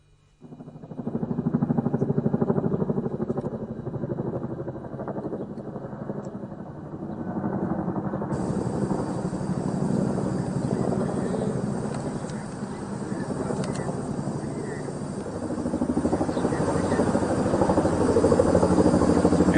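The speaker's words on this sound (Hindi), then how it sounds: "अब चिनूक अटैक हेलीकॉप्टर की तस्वीरें देखिए।" A Chinook cargo helicopter flying near the Line of Actual Control in India, a loud steady rotor thump and engine drone rising in after a quiet start and sustained throughout at close range.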